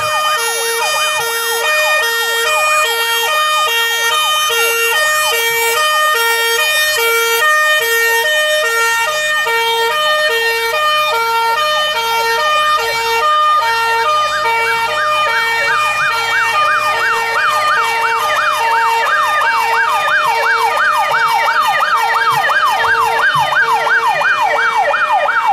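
Fire brigade vehicles of the Rio de Janeiro State Fire Department pass in a street parade, sirens wailing loudly and continuously with overlapping rising and falling tones and steady engine rumble beneath, no talking.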